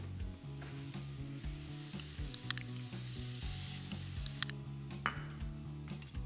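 Cream cheese sizzles steadily in a frying pan, with occasional clinks and scrapes of stirring over the continuous crackle.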